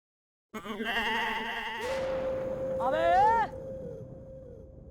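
A goat bleats loudly and close inside a police station in a comedy scene, a long wavering cry that rises into a strained quavering peak before trailing off, with no talk over it.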